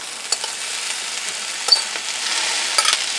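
Thinly sliced steak sizzles in a pan with softened peppers and onions, a steady soft frying hiss broken by a few clacks and scrapes of stirring, no talk.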